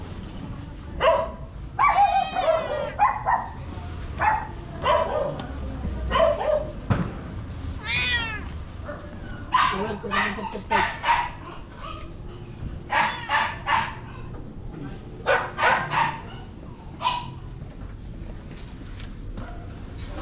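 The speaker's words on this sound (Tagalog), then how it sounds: "So dito naman mga kaibigan, may mga aso sila." Dogs bark and yelp in scattered bursts, mixed with cat-like meowing cries, and a brief voice speaks partway through.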